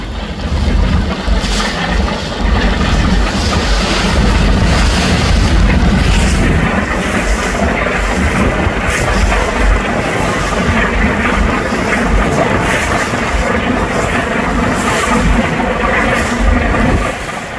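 A loud, steady engine drone with rushing water and wind fills the air as two big Daihatsu-engined river launches throb past while overtaking, continuous and close throughout.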